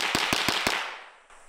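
A quick burst of four gunshots, fired on a ranch by a shooter hanging suspended, in rapid succession, loud and sharp, their echoes blurring together before tailing off.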